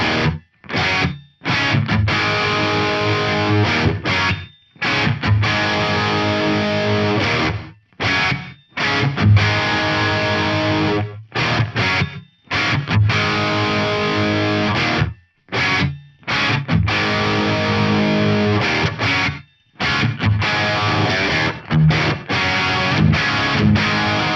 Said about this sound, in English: there's 6 different gated reverb modes